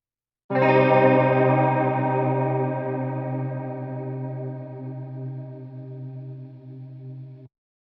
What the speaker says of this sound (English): It's got sounds like some chorus on fast and some analog delay